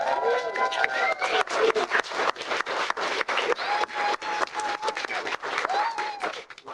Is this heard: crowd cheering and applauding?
yes